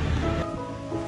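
Strong ocean surf rolls and washes continuously at a beach in Baler, Aurora, a loud, close, broadband roar of breaking waves with no talk.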